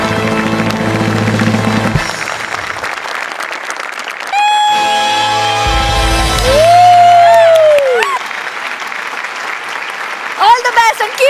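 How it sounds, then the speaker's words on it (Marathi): Audience applause and cheering at a Marathi comedy show's live taping, a broad clapping wash under loud music with sustained tones, rising near the end into scattered claps and whoops. "एकदा उभं राहून तुमच्यासाठी टाळ्या वाजवतो"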